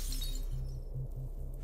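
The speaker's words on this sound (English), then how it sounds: "I can't open these windows, which is why I'm smashing things." In Cataclysm DDA, a window breaks with a sharp burst of shattering glass right at the start, then fades into a low, pulsing game music background.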